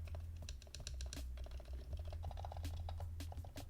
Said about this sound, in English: when I press down the keycaps, I don't hear any hollowness or like weird sound